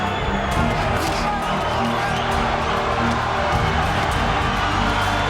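A boxing arena crowd cheers and roars during a Teddy Atlas-era HBO broadcast of a Tapia fight, a loud sustained wash of voices with whoops and scattered clapping, and faint voices talking beneath.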